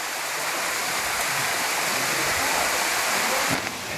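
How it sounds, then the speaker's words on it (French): Waterfall cascades pour steadily at the En Gedi desert oasis, a dense continuous rush of falling water heard close and loud for the whole stretch, with a faint brief voice near the end. "Les premières cascades."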